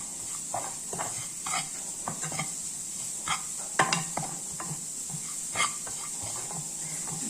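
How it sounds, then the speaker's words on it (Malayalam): Onions frying in a pan for a cashew theeyal while being stirred, with soft sizzling and scattered scraping clicks of a spoon against the pan. "പച്ചമണം മാറുന്ന വരെ ഇളക്കണം"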